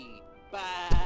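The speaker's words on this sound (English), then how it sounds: "He is a sheep." A sheep from the video game Amanda the Adventurer gives a single loud, close bleat lasting about half a second. A brief thump follows near the end.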